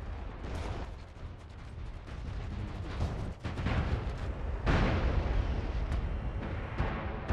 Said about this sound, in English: Hey, stop firing the turret.